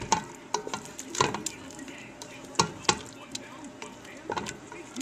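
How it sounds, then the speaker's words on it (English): A spoon stirs tomato paste into simmering homemade spaghetti sauce in a pot, giving irregular scraping knocks and clinks against the pan over a soft bubbling simmer, close and moderately loud. "I'm going to add a can of tomato paste just because I do want it a little bit thicker than what it's looking like. And I'm going to mix this in."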